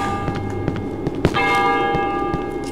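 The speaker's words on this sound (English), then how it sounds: "And you hear the bell. It's creepy." A creepy bell in the Cry of Fear horror game rings out sharply midway, its sustained metallic tone lingering over a dim ambient background, loud and without speech.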